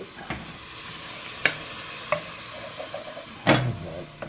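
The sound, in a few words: stirring chili in a pan with a wooden spoon while deglazing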